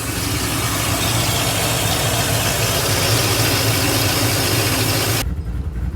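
A cammed 2006 Mustang GT V8 idles at about 800 rpm with a deep, throbbing rumble close by, running evenly for several seconds before cutting to a quieter low hum near the end.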